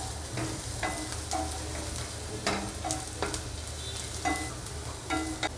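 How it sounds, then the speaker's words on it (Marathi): Finely chopped onion with curry leaves sautéing in a kadhai for dal tadka until golden brown, a steady close sizzle broken by repeated scraping strokes of a spoon stirring the pan. "एक बारीक चिरून घेतलेला कांदा एकदम गोल्डन ब्राऊन कलर येईपर्यंत परतून घ्यायचा"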